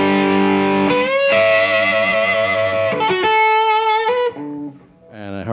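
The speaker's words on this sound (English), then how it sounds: "That's my main kind of lead distortion kind of sound." Distorted electric guitar lead run through a Keeley Germanium Oxblood distortion pedal, loud and sustained, with held notes and shifting pitches across several phrases before a brief quieter tail and a final stab.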